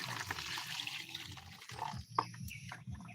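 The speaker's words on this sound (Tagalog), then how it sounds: "ilagay na natin ang ating mainit na tubig" Hot water pouring into a bath, a soft continuous trickling and splashing wash at low level with a few small drips and knocks, and no voices.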